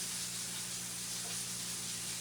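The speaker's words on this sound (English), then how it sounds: "pork chops are frying" Pork chops frying in a pan, a steady, even sizzle and hiss close by with a low hum beneath, continuous and without talk.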